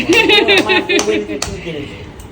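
A short burst of hand clapping from a group at a Bengali family gathering, several quick claps at the start, with chuckles and speech overlapping throughout.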